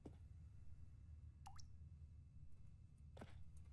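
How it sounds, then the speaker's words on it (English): Water drips in The Stanley Parable Ultra Deluxe, two sparse, resonant droplet plinks over a low ambient game hum, faint and spaced apart. "Water dripping in here now."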